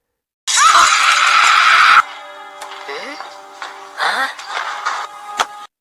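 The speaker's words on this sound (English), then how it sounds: "he hears a scream, loud, sudden, unnatural, coming from the house across the street." A loud, sudden, unnatural scream from the Hello Neighbor game bursts out for over a second, then cuts to quieter scattered ticks, shatters and short groaning cries.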